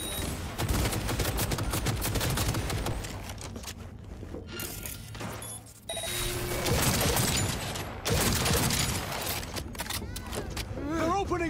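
Dense, loud bursts of automatic gunfire fill a first-person shooter firefight, rapid volleys with brief lulls, mixed with game sound effects and voices talking over the action.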